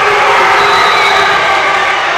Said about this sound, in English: that late cheer was one of the football players doing a backflip